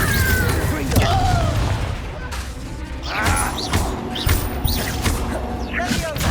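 Confringo fire-spell blasts in the game Hogwarts Legacy land as repeated booming thuds and crashes with whooshing bursts, mixed under battle sounds and in-game voices.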